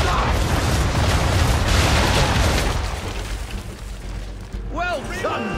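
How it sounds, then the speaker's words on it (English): Heavy ship broadside cannon fire booms in a dense, rumbling barrage during a naval battle in Assassin's Creed III, then fades into quieter sea ambience with brief tonal cries. "Fire broadside!"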